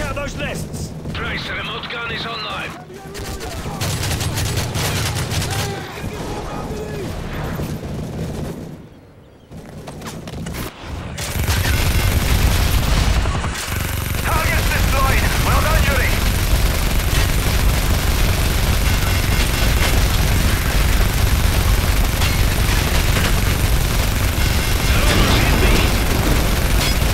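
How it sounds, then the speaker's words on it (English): A remote-operated gun fires in Modern Warfare 3, with rapid gunfire and heavy booms filling the scene loud and continuous, over a dense roar of combat. "the remote gun is online"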